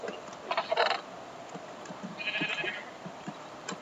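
Two bleats from sheep in the Minecraft video game, a louder one early and a softer, higher one about a second and a half later, over a faint background hiss.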